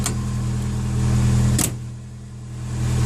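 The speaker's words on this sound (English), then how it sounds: "Doors actually shut really nice." A 1986 Ford Mustang SVO door shuts with a single sharp solid thud in the middle, over the low steady idle of the engine close by.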